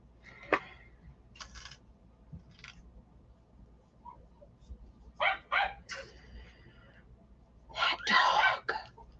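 A pet dog barks in a quiet room, a few short scattered woofs and huffs that build to a louder close burst near the end, with faint low sounds between them.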